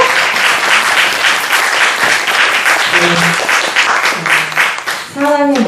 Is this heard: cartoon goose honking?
no